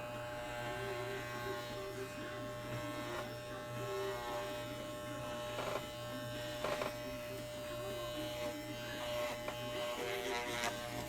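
An electric shaver buzzes steadily and fairly close throughout as it trims the fur of a fursuit, a constant motorized drone with small shifts as it meets the fur.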